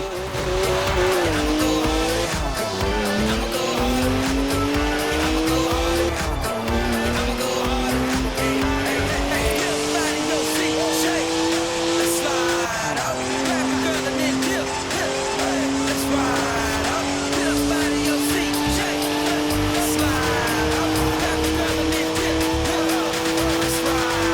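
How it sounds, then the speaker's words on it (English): A BMW in the Forza Horizon 4 racing game spins its tires hard, with a loud, continuous rising and falling engine roar and long tire squeal as it skids and smokes. "Look at the smoke! Please leave me some tread for the drive home, Stiggy."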